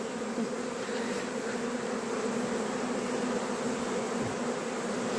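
Honeybees buzz at a beehive during evening hive care, a dense steady hum close by throughout, with no talk.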